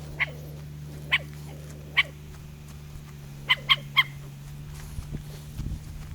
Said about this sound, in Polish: Idźcie sobie pieski, no idźcie, idźcie.